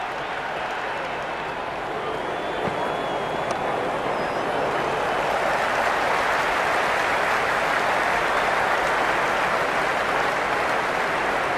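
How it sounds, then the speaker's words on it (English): A cricket stadium crowd at a Sydney Sixers versus Melbourne Stars match applauds and cheers in a loud, sustained roar of clapping that holds steady throughout, with no break. "It's evident and ever so audible that the crowd is at near bursting point at today's play."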